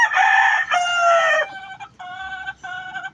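A gamefowl rooster crows loudly and close by, one long strained call that breaks into a shorter, choppy second crow.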